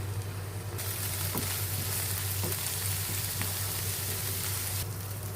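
Ginger and garlic paste frying with onions in mustard oil in a pan, a faint, even sizzle and crackle running throughout with a few light stirring taps and a low background hum.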